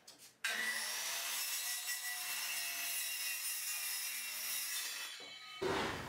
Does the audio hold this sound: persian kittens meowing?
no